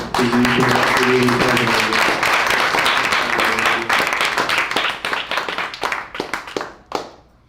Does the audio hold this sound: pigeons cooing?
no